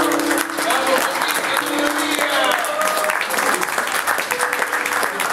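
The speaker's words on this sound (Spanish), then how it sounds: "para quien le pido un aplauso a todos." Audience applause at a tango event honoring dancer Juan Carlos Copes, a sustained wash of clapping with some crowd voices mixed in.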